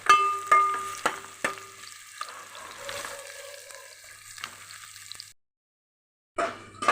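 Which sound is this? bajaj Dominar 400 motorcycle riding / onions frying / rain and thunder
onions frying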